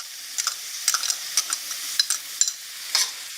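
Capers dropped into a pan of frying zucchini with anchovies and garlic, giving a soft, steady sizzle broken by light scraping and stirring clicks at irregular intervals, close up.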